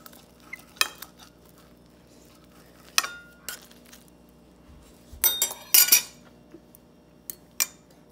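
Cutlery clinks and scrapes against a plate while cutting Krusteaz Light & Fluffy buttermilk pancakes that are a bit stretchy; several sharp, close, scattered clinks with quiet gaps and no talk.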